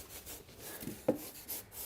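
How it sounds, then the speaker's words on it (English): Bare uncoated wood rubbed and slid across a wooden floor, a faint dry scraping rasp with one brief sharper scuff midway, quiet and close with no talking. "so wood that does not have any coating on it, it's just going to sound like this."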